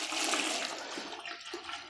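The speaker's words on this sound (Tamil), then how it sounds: "இப்போ மீதி இருக்கிற நீரையும் நான் இதுக்குள்ளே ஊற்ற போகிறேன்" Water pours steadily into a container of leaves while Jadam liquid is being prepared, a continuous close splashing gush with no talk.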